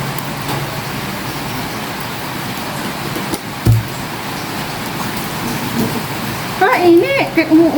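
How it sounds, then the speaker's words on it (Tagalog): Steady rain falling outdoors in a broad hiss, with passing road traffic and a thump partway through; voices join near the end. "Init, kaya umuulan."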